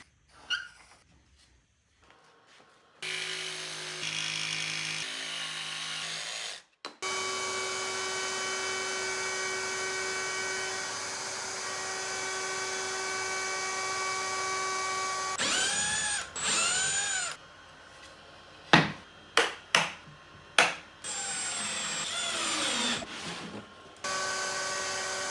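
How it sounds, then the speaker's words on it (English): A jigsaw cuts a drawer pull shape out of a wooden board, its motor holding a loud, steady whine for several seconds before stopping, followed by scattered knocks and short bursts of tool noise. "I need to use a jigsaw to remove it"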